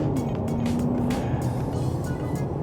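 Volkswagen Touareg driving and accelerating, a continuous muffled engine and road rumble heard from inside the cabin, with a faint rising whine partway through.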